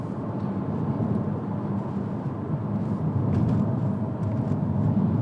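Morning commute traffic is heard from inside a Peugeot 308 GTi as a steady low road-and-engine rumble, with faint passing swells from other vehicles.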